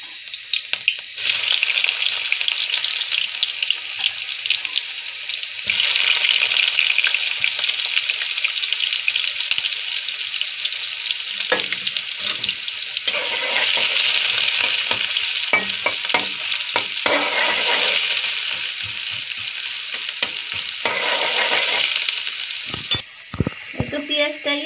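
Onion and garlic fry and soften in a pan for a taro leaf dish, a loud steady sizzle broken by stirring scrapes and clinks, with short gaps and soft talking near the end.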